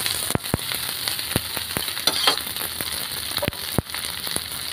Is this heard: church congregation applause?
no